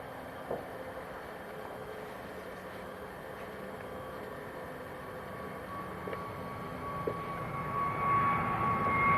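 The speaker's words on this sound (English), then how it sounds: "So this is an A320 Neo." An Airbus A320neo airliner at Manchester Airport, a steady distant engine rumble and whine that slowly builds louder toward the end, with faint background clatter.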